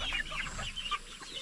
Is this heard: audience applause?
no